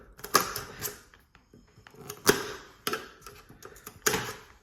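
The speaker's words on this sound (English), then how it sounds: "So yeah, let's pop it open." A Dulux Trade Scuffshield matt paint tin with taped lid is pried open, giving a series of sharp creaking clicks and metallic snaps at irregular intervals, close and fairly loud with no speech.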